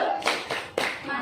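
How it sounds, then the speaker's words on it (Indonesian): A group of mothers at a nutrition session does the tepuk mantul clapping chant, three quick sharp rounds of claps in a rhythmic pattern, close and fairly loud. "Kita kasih juga tepuk mantul ya Bu ya."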